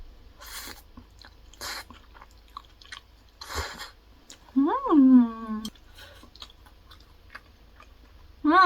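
Chewing a mouthful of creamy jjamppong (cream jin-jjamppong) noodle soup with shrimp pieces, heard as a few soft, brief crunchy bursts between quiet moments, with a voiced hum of enjoyment rising twice near the end.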